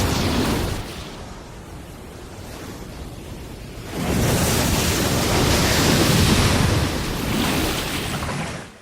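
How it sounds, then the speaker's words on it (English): THX soundtrack ocean waves layered with a lion roar for power: a broad roaring surge of crashing surf that eases briefly and then swells back louder, continuous and close. "The sound of a lion roar has been added to give the waves massive power."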